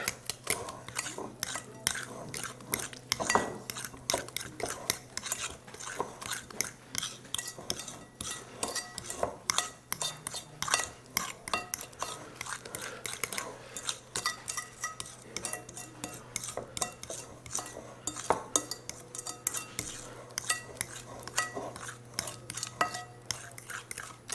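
Keto brownie batter being mixed by hand in a bowl, a long run of quick, close scraping and clinking of a utensil against the bowl in an uneven rhythm, with occasional brief talk.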